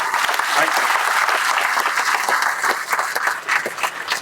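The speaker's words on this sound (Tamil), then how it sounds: "நல்ல வரவேற்பு கொடுங்க நல்ல கைத்தட்டு கொடுங்க அவருக்கு" Audience applause at a Tamil film event, greeting the film's music director: dense, steady clapping from a crowd with some voices mixed in, loud and continuous throughout.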